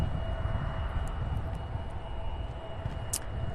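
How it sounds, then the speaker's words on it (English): A Bombardier CRJ 900 jet airliner arriving at Cincinnati's CVG airport, heard as a steady, moderately distant broadband engine roar with a faint high whine, continuous and unbroken through the clip. "That's a CRJ 900."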